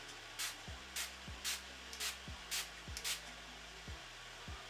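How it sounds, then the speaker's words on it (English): Becca Skin Love Glow Shield Prime and Set Mist setting spray misted onto a face, six short soft hissing sprays in a quick irregular rhythm, close and quiet over a low background hum. "I'm going to go in with the Becca setting spray."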